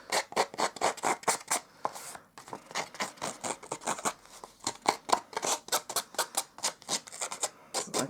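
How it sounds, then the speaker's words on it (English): A scissors blade scraped repeatedly along paper card edges to distress them, producing a close, rhythmic series of rasping strokes in quick bursts with one or two brief pauses, no talking. "I will distress the edges here with my scissors"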